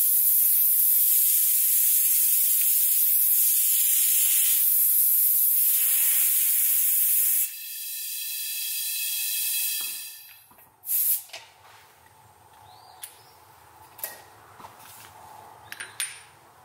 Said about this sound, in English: Connect your air hose and use a little bit of air to help push the regulator out.